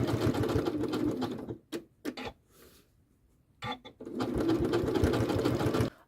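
Janome sewing machine stitching a continuous stitch across the bottom of a summer postcard, a steady loud run that stops briefly with a few short bursts and clicks, then resumes alone.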